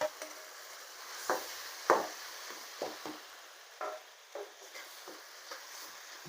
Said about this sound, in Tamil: அதோடு நம்ம அரைச்சி வச்ச பேஸ்ட்டை அந்த எண்ணெயிலே போட்டு நல்லா வதக்கிறணும்.